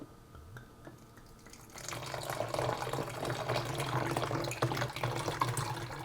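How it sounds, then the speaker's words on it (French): Water from a one-litre measure pours into a homemade ginger beer mixture of ginger and lemon juice in a bowl, a steady splashing stream that starts after a quiet moment and runs on alone. "On va compléter avec 1 litre d'eau."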